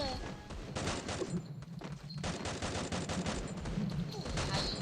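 Gunfire in the mobile battle game Free Fire: dense, loud rapid-fire bursts rattle almost without pause, with brief heavier thuds mixed in.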